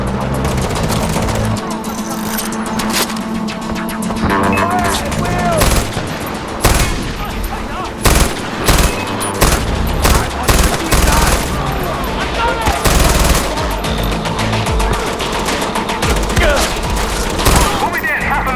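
Gunfire in the video game Far Cry 4: loud, sustained bursts of automatic weapon fire and repeated shots run throughout, with booming impacts and a dense battle din.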